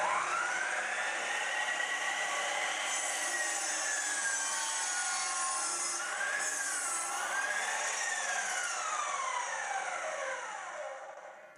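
A sliding compound double bevel miter saw with laser guide whines at high speed and cuts through wood at 45 degrees, its pitch sagging under load and recovering, loud and close before fading at the end.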